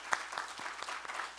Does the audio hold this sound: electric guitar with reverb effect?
no